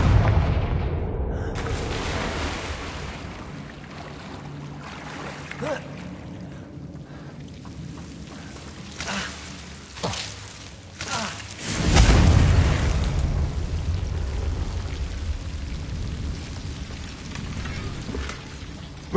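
Confringo blasting spells in Hogwarts Legacy go off as a few deep, booming explosions, the biggest a heavy rumbling blast partway through, set against a dull, low game ambience.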